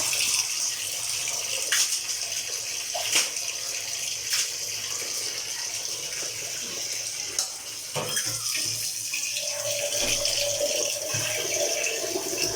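Water runs steadily over ceramic kitchen wall tiles during cleaning, a continuous close hiss and splash with a few sharper spattering bursts as the flow shifts against the surface.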